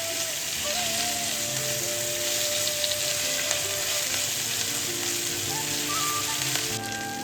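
Curry leaves, green chili and grated ginger sizzle steadily in hot tempering oil on low flame, a close, continuous crackling hiss throughout.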